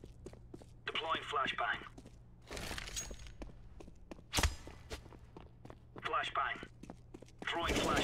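A flashbang grenade thrown in CS:GO: a sharp, bright burst stands out amid steady footsteps, with short whooshing and shattering bursts and quiet talk around it.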